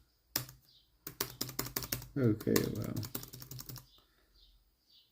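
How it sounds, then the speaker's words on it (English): Keys clatter in a quick run of sharp clicks on a ThinkPad T480s laptop keyboard, close and fairly loud, with someone speaking briefly before and over the typing. "gonna have to end up testing the keyboard"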